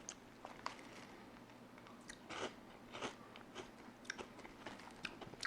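Protein chips crunch softly and repeatedly in close, quiet bites, a light, easy crunching rather than a hard snap, with no talking.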